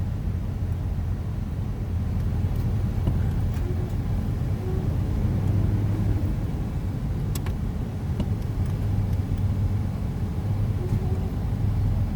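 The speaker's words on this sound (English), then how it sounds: "Just checking out the 4-wheel drive right now." Truck driving with four-wheel drive engaged, heard from inside as a constant low engine and drivetrain rumble with road noise, steady and even throughout, with a few faint clicks and no talking.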